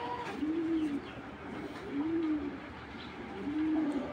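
Young male club-raced pigeon cooing close by, three soft, evenly spaced coos, each lasting about half a second, against a quiet background.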